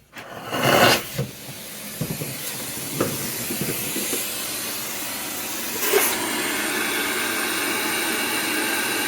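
An Air-Flo central vacuum system draws air through a new hose, a loud steady rushing hiss that settles into a constant roar after a few bumps and clunks as it connects.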